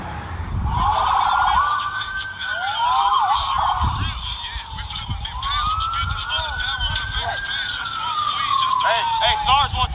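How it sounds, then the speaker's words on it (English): A police siren wails in sweeping rising and falling tones that rise above street ambience, sounding fairly close and continuous, with a few voices murmuring faintly beneath it. "But now you actually hear sirens."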